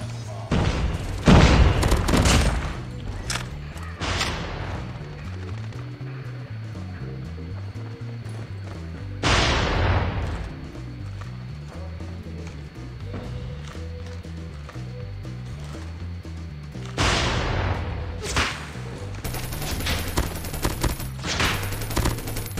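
KRIG-6 assault rifle fire in a ranked mobile shooter match, heard as several loud bursts of rapid shots separated by quieter stretches, with a low rhythmic in-game tone in between.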